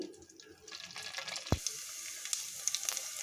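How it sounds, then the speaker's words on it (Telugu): Split urad dal dropped into hot oil for tempering, a crackling sizzle that builds after a sharp knock against the pan, with small pops scattered through the steady hiss. "ఈ మినపగుళ్ళు వేసుకోవాలి. ఇవి కొంచెం ఫ్రై అవ్వాలి."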